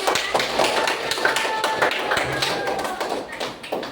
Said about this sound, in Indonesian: tepuk tangan dong untuk buat teman-teman